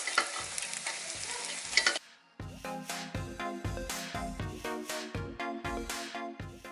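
Eggs frying in a pan for Thai nasi goreng make a dense, crackling sizzle for about two seconds, then it cuts off and rhythmic tonal beats follow.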